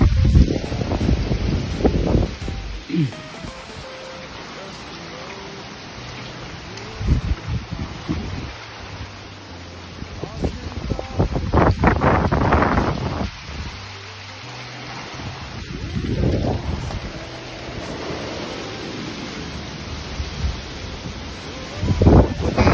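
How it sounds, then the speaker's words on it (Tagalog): Strong wind and heavy rain sweep over a hiking trail in Brunei, a steady wash of downpour beneath rushing gusts and microphone buffeting that swell and fade in several loud bursts. "Ito naman yung lakas ng ulan."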